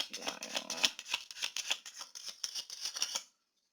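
Tarot cards are riffled and shuffled in a steady run of quick, crisp flicks and taps for about three seconds, close and fairly loud, then stopping abruptly.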